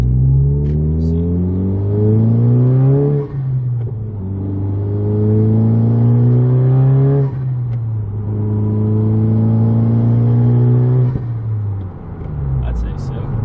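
Engine of a car fitted with an Acuity short shifter, pulling hard while accelerating onto a highway, with a loud droning rumble that climbs in pitch through three or four gears, each shift marked by a brief dip, with turbo noise under the engine.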